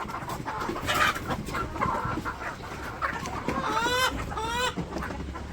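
Hens on a poultry farm clucking and squawking close by, with flapping and scuffling, and a rooster's rising calls near the end over a rustling barn background.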